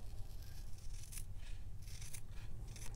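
Scissors snip through excess homemade fabric tape, a few quiet crisp cuts over a low steady background hum, close by and with no voices.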